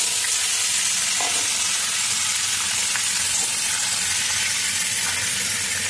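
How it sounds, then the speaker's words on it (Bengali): Ridge gourd fries in oil seasoned with bay leaf and five-spice, giving a steady, close sizzle and hiss throughout with occasional faint stirring clicks and no talking. "তো এবার ঝিঙেটাকে তুলে দিলাম"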